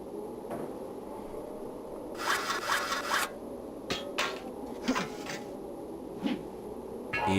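A hacksaw rasps in short scraping strokes in the point-and-click game Dragon Lore, several distinct bursts over a low steady background hum, fairly quiet and with no talking.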